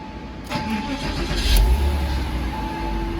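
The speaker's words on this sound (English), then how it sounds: "Let's go ahead and fire up this car." A Porsche Boxster 986 engine cranks and fires up, the starter whir giving way to a loud catch and a steady running rumble close by.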